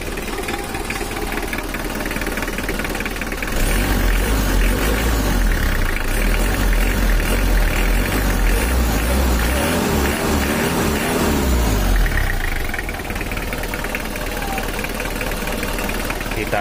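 Rough, uneven idle of an old Mitsubishi L300 diesel engine with a poor fuel pump, a loud knocking chatter that swells for several seconds before settling back, close to the microphone.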